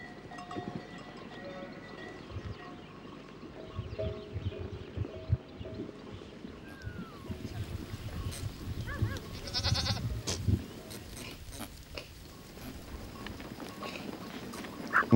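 Murciano-Granadina goats bleat here and there across a farm, scattered calls over a busy background of shuffling, clanking and ambient rustle, with a few louder bleats near the middle.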